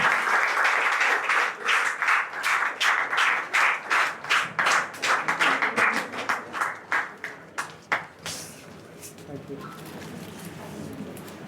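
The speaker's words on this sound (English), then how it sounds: "So I request everyone to clap for the third panelist," An audience at a Toastmasters professional-success panel discussion claps for a panelist in a strong, evenly paced rhythm. The beat gradually slows and fades out, leaving quieter room sound with talk.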